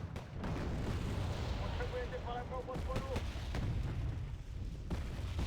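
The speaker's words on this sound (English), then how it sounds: "Let me shoot at these tanks that he has" Video game tank battle with rumbling artillery-like booms and sharp gunfire bursts over a continuous low roar, a player talking over it.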